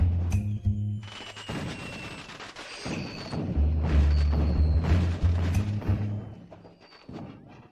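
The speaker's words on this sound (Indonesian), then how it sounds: "Waktunya kembang api." Booming explosions and crackling bursts overlapping with a low rumbling tone, loud and continuous for several seconds before tapering off.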